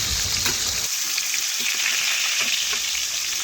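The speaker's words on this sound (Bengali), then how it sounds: "এখন বেশ কিছুক্ষণ অপেক্ষা করে মাছের এক পাশ আমি ভেজে নেব" Pieces of katla fish, the steaks, tail and split head, sizzle steadily in hot oil in a pan, a bright continuous crackle with scattered pops.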